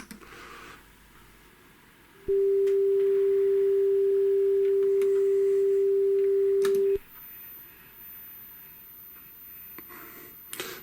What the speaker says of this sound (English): Test tones are coming.